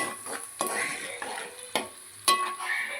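Chopped onions and tomatoes frying in a pan, sizzling steadily while a spoon stirs and scrapes, with several sharp clanks against the pan's side, close and fairly loud.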